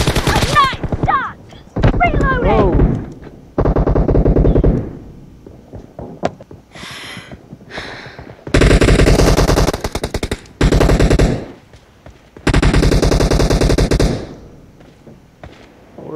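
Bursts of machine-gun fire in a team deathmatch shooter game, loud automatic volleys in several long strings separated by short pauses, with players talking between and over the shots.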